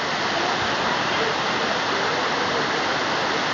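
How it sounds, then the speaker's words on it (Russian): The Whisper waterfall gives off a steady, dense rushing roar of falling water, loud and close, continuous with no breaks. "Водопад Шепот."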